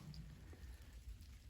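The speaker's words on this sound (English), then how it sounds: "So although it's raining" Rain falling outdoors at a honey house building site, a soft continuous hiss of drops with a low rumble underneath, faint and steady throughout with no talking.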